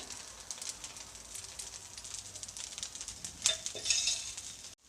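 Oil sizzles around a dosa cooking on a pan, a steady soft hiss that carries on throughout, with a couple of faint utensil clinks near the end.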